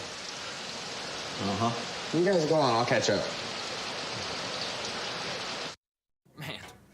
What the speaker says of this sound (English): Looking at the rain.